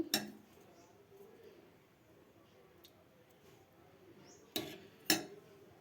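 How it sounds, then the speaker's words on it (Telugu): Metal pots and vessels are scrubbed and washed in a home kitchen, with soft scraping under quiet room noise and a few sharp clinks of metal vessels near the end. "గిన్నెలన్నీ తోమేసుకుంటున్నాం"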